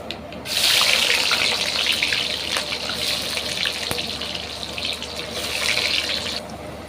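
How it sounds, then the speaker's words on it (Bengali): Onions hitting hot oil with whole spices for chicken kosha mangsho, producing a loud, continuous sizzle and crackle that starts abruptly and holds steady, with light clinks of a utensil. "আর এবার দিয়ে দেবো পেঁয়াজ।"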